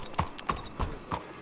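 Horse hooves clip-clopping in Red Dead Redemption 2, a slow, steady walking rhythm of about five distinct close hoof strikes with no talk over them.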